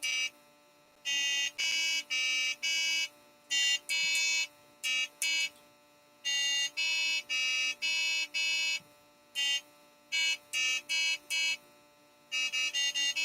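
A Velleman Brain Game, an electronic Simon Says kit, gives bursts of electronic beeping tones in short and long blocks, some rising in quick steps, with gaps of silence and no voices.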